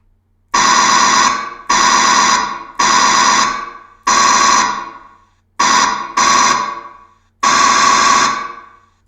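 Pulse rifle ammo counter prop emitting a loud, harsh electronic buzz in seven separate bursts of about a second each, spaced by short gaps, close up with no talking.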